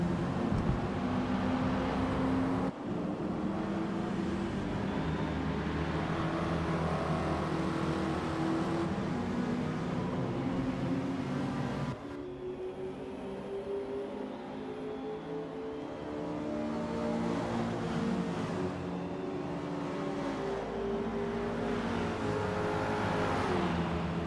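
A 5-liter car engine races in Forza Motorsport, loud continuous revving that rises and drops through gear changes, with sharp cuts and a brief lull before pulling again.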